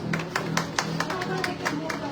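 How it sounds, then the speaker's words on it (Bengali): An audience at a Rampura fair stall ceremony claps in a steady, moderately quiet patter of hands, with a few sharper claps standing out and faint murmuring underneath. "হাততালি দিতে হবে সবাই।"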